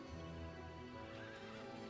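A horse neighs in the Heroes of Might & Magic III HD Edition video game, a faint whinny with hoof clip-clop underneath, brief and quiet, no talking.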